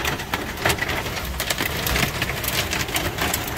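Heavy rain drums steadily and densely on a car's roof and windshield during a hailstorm, a loud continuous patter with sharper hits scattered throughout.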